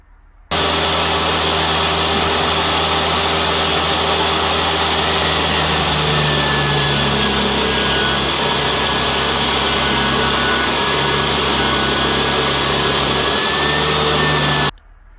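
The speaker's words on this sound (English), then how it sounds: "So that's sawing." Continuous loud machine noise, like a power saw cutting wooden workbench parts, runs steadily and close up for the whole stretch.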